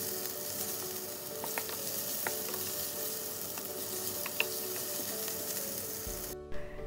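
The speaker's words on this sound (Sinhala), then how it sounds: "මේ විදිහට ලුණු ටික හොඳින් තෙම්පරාදු වුණාට පස්සේ" Onions sizzle and fry in a pan as they are stirred, a steady close crackle with light scraping clicks, ending in a brief knock of the pan.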